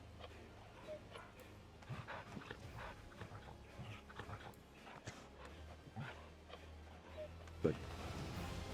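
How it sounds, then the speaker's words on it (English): A puppy in Final Fantasy 14 is petted, bringing soft dog whimpers and small yips in a game scene with quiet ambient music, and one sharper squeak near the end. "Pet the puppy."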